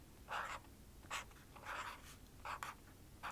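A yellow pen writes on paper in a quiet ASMR setting. Soft, close scratchy strokes come in short bursts of about half a second, separated by brief pauses, with no voice.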